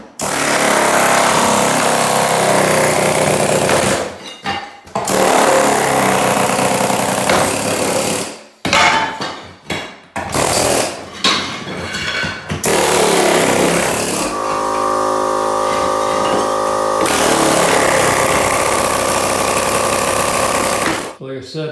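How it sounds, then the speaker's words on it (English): A pneumatic hammer chatters loudly and continuously while breaking up old kitchen floor tile, stopping in brief pauses between bursts of hammering, close up and harsh. "I'm going to take my pneumatic hammer and do my best with it"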